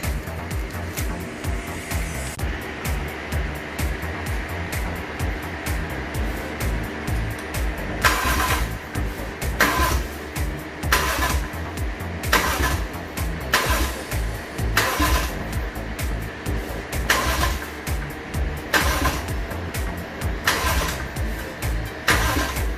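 A Toyota 1JZ-GTE VVTi engine swapped into a 2001 Lexus IS300, with its fuel pump removed, cranking and trying to start. Loud, close starter pulses repeat in a steady rhythm over a running background hum.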